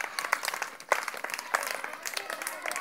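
Students clap their hands while running in a playground game, giving a quick, uneven patter of many claps at moderate volume.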